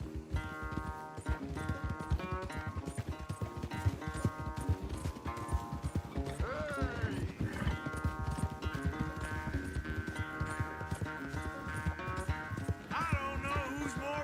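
A horse gallops in steady rapid hoofbeats during a race in the video game Red Dead Redemption 2, loud and continuous under a tonal music score.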